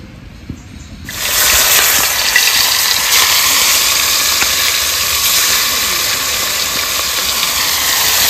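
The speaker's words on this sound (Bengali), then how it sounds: "তো কড়াই গরম হয়ে গেছে, সর্ষের তেল দিয়ে দেবো।" Mustard oil goes into a hot kadai (wok) outdoors on a windy day. After a quiet second, a loud, steady hiss and sizzle bursts in and continues unbroken, with no talking.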